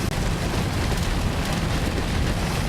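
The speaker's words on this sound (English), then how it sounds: "So it's raining." Simulated rain in the X-Plane 11 flight simulator, heard from a Zibo 737 cockpit with the audiobirdXP sound pack: a loud, dense, unbroken hiss of rainfall that holds steady throughout.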